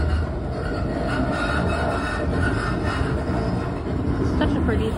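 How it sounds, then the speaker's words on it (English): Riding aboard a MAX light rail train on a partly cloudy day: a continuous loud rumble of wheels and carriage noise with faint clicks and squeals, heard from inside the car. "On the max train."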